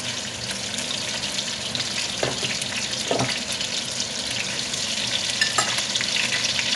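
Carrots, onion, shallot, leek, garlic and thyme stirred together in a pot for homemade chicken broth, giving a steady wet sizzle with a few louder scraping stirs, close and without talk.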